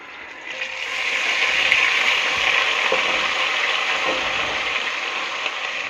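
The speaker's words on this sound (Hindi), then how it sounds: "30 सेकंड के लिए इसको भी फ्राई कर लेते हैं।" Ginger garlic paste fries with golden onions in hot oil, giving a loud, steady sizzle that swells after the first second and holds evenly, with occasional faint stirring ticks.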